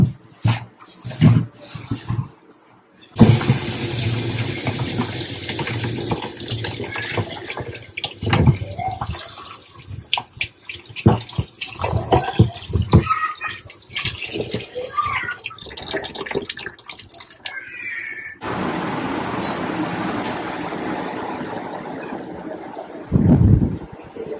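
Lychees are rinsed under running water, a loud tap stream that starts abruptly and gushes on with splashing and handling clatter, pausing briefly before resuming.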